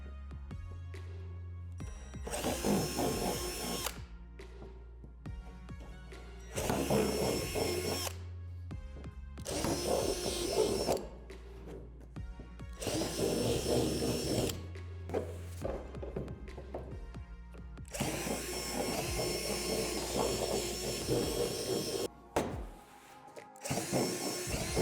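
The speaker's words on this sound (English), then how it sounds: "Take the 3 roof panels and drill out the 4 holes with a 3/8 drill bit." A power drill with a 3/8 bit bores holes through plastic playset roof panels in repeated loud bursts of whining, grinding motor noise, separated by short pauses and a few clunks from handling.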